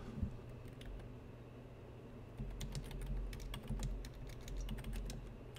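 Keys clatter on a computer keyboard while a command is entered for the WorldEdit tool, a quick uneven run of close, light clicks over a faint steady hum.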